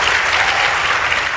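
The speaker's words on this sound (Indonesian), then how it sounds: "tepuk tangan" Loud, dense applause from an audience at a political gathering with young people, a continuous wash of many hands clapping close by, unbroken through the whole stretch.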